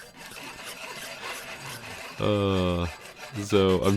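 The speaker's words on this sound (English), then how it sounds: "taking the burr off of the side, created from the cutting." A file rasps the burr off a freshly cut copper edge in short, scratchy strokes, with a voice briefly talking over the filing.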